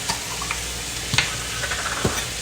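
Chopped garlic sizzles in hot oil in a pan alongside other cooking ingredients, with quiet scraping stir strokes and light crackling pops close by.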